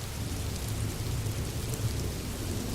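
Steady rain falls on a surface with a low rumble of distant thunder beneath, continuous and soft, with no voices.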